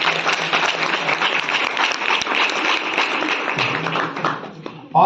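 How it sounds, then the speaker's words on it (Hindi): A classroom of students gives a long burst of dense, loud applause for a student's painting at a teacher's birthday celebration, with voices faintly mixed in. "इसके लिए एक बार जोरदार ताली।"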